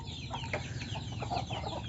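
Free-range village chickens (ayam kampung) cluck in short scattered calls over a steady low background hum, moderately close and fairly quiet, with no talking.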